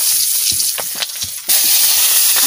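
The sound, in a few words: potatoes frying in hot oil for chicken pulao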